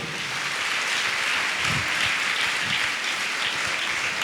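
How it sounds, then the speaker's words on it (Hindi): A church congregation at a Christian healing service claps together in steady, sustained applause that fills the room evenly from start to finish. "ताली बजा के परमेश्वर को धन्यवाद दे"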